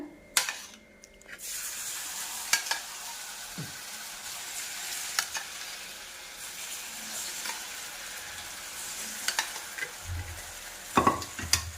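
Vada batter poured into hot oil, giving a steady sizzling, bubbling hiss throughout, with a few brief clatters and knocks of a utensil near the end.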